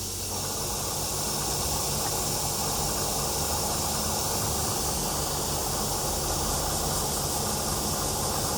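An airbrush sprays paint onto a 1/48 scale Airfix de Havilland Sea Vixen FAW.2 model, giving a steady, unbroken close hiss with no talking.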